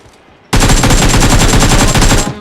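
Rapid automatic gunfire in a video game erupts suddenly and loudly, a dense, even burst of shots lasting about two seconds with no talk over it.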